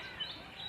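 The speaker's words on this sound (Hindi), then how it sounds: "आपको वीडियो में भी चिड़िया की आवाज़ पीछे सुनाई दे रही होगी।" A small bird chirps faintly in the background outdoors, giving a couple of brief high tweets over steady low ambient noise.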